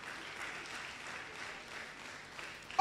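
Audience applause at an International Women's Day celebration, a steady, fairly quiet wash of clapping that holds evenly for about three seconds before a sharp louder burst at the very end.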